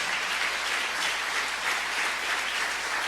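A church congregation applauds together in a steady, even wash of clapping that holds at moderate distance for a few seconds, with no voices over it.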